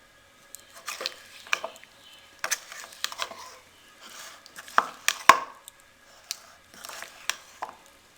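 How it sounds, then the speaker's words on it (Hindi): Boiled potatoes being mixed into a thick batter for aloo Manchurian, giving irregular soft squishy taps and knocks with short pauses between them, close and fairly quiet, with no talking. "अब इसमें बॉयल आलू डाल देंगे। बिस्मिल्लाहिर्रहमानिर्रहीम। अब इनको हम अच्छे से मिक्स कर लेंगे।"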